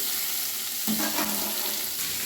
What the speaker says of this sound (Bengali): 2-1 মিনিট এগুলো ভেজে নেব।